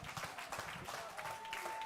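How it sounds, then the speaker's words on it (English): Applause from the audience at an auction association's annual meeting and national auctioneering championship, fairly quiet, patchy clapping from a modest crowd with some voices under it. "Give them all a big round of applause."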